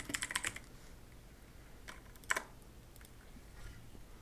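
Quick bursts of computer keyboard typing clatter close by, a rapid cluster of keystrokes followed by a lone click and a few faint taps against a quiet room.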